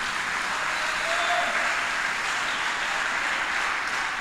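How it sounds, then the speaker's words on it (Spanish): A church congregation applauds during an evangelical service with steady, even clapping that fills the whole stretch at constant loudness, with no talk over it. "¿Cuánto es el aplauso al Señor?"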